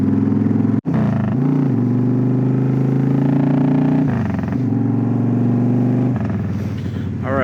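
Motorcycle riding along a road, its engine droning steadily and loud throughout with one brief cut in sound near the start and small shifts in pitch as the rider works the throttle.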